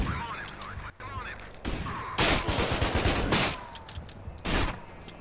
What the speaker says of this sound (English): they got M16s